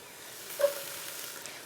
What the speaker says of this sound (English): we're going to get the onion going for the pan